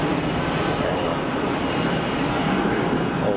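A Cessna Citation business jet at Geneva Airport, a steady broadband engine roar filling the scene continuously at moderate distance, with faint talk mixed in.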